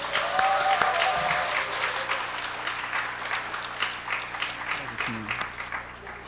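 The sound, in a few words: warm audience applause welcoming a pastor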